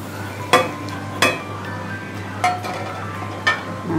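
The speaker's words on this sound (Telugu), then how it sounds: "తర్వాత మనము టమాటా వేసుకుందాము" Tomatoes going into a frying pan of leafy vegetable curry, with a few sharp clinks of a spoon against the pan over a steady low sizzle and hum, spaced a second or so apart.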